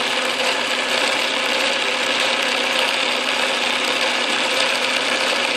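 An old Atlas Craftsman metal lathe runs steadily with a dense, even mechanical whir and a faint rattle mixed in, close and continuous with no talk.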